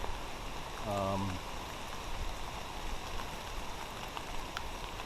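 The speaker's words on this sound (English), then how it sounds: "a river's not gonna form if it rains heavier" Rain patters steadily on a tent pitched along a river trail, a soft even hiss of drops that continues throughout, with a brief tonal sound near the start.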